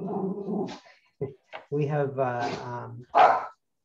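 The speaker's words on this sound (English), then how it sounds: "Now that's going to set my dog off too." A dog barks in the room in several short bursts, loud and close. Someone talks and laughs between and over the barks.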